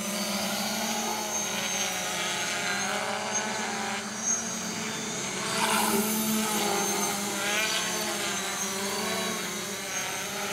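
An RC Logger NovaX 350 quadcopter drone flies in normal mode, its rotors giving a steady, droning whine that rises and falls slightly as it maneuvers, fairly close.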